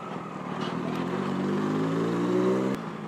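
A Yamaha MT-09 motorcycle fitted with an M4 aftermarket exhaust drones at a steady, rising engine note from up close, then drops off sharply near the end, wind rumble underneath.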